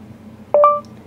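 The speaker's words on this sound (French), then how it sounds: "Parlez après le bip" A Blindshell phone for blind users gives a short, loud two-tone beep as a voice-message prompt, clean and alone over a faint low hum.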